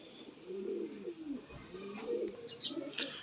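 Lakha pigeons cooing close by in soft, repeated low murmurs, with a few brief higher chirps near the end; no speech.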